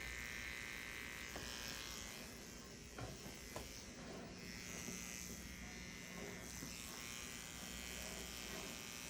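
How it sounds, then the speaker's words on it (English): Electric hair trimmers buzzing close while cutting the long hair around a child's ear and hairline at home, a faint continuous hum with small clicks and shifts as the blades move. "if you want to use the edge of the trimmers, it's probably a good idea"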